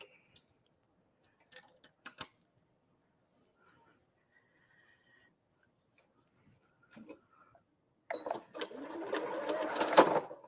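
A sewing machine runs a stitching test on a quilting scrap during a quilt block project, starting after quiet handling clicks and building into a fast, steady mechanical whirr and ticking near the end.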